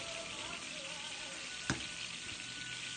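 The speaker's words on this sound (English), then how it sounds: "Let's brown them up a little more." Food sizzles steadily as it browns in a frying pan, a constant crackling hiss with one sharp click or clatter partway through.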